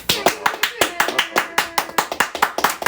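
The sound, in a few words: audience applause for a guest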